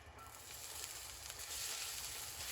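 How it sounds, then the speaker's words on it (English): Garlic sizzles in a hot frying pan while a shrimp linguine with lemon butter garlic sauce is being cooked, a steady, even hiss that holds and swells slightly, with no talking. "In this pan, I'm gonna add our garlic."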